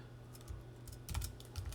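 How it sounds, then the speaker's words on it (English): Typing on a computer keyboard, a quiet close-up patter of irregular key clicks with small bursts of faster strokes. "so you just type in"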